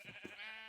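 Sheep bleating inside a video game, several calls in quick succession from a flock of 32 sheep, fairly close and clear over a steady synthetic hum.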